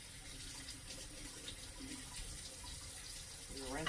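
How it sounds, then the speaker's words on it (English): Tap water runs steadily into a sink as juicer parts are rinsed beneath the flow, a continuous close splashing rush that stays even throughout. "I'm literally rinsing it out."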